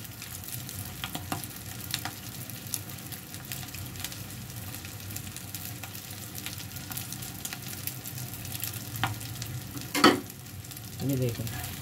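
Egg-coated seekh kebabs fry in a pan with a steady, moderate sizzle, broken by a light clink of a utensil near the end.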